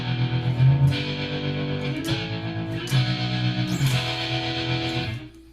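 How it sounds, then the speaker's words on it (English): Electric guitar played through an inexpensive distortion effects pedal, with sustained fuzzy chords ringing out and changing every second or so, loud and close with no voices. "And so I can kick in my distortion again."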